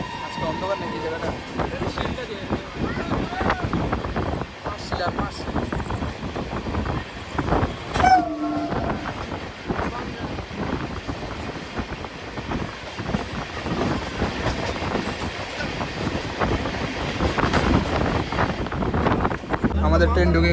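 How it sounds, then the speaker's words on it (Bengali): The Kanchanjunga Express rumbles into Sealdah station, a continuous low rolling clatter with wind buffeting the microphone and a brief squeal partway through, steady and fairly close. "আমাদের ট্রেন ঢুকে গেল শিয়ালদা।"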